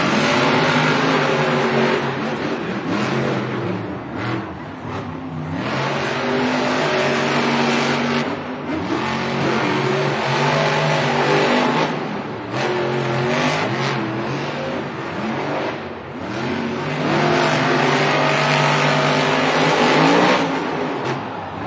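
Monster trucks racing head to head in a stadium at a Monster Jam event in Denver, with loud continuous engine roar and revving throughout, rising and falling in waves over a constant crowd-filled wash.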